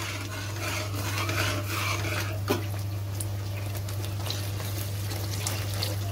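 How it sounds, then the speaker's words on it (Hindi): Water added to semolina halwa (suji ka halwa) cooking in a pan with milk, giving a continuous stirring, sloshing and scraping texture, a low steady hum underneath and one sharp clink partway through. "पानी भी ऐड करूंगी।"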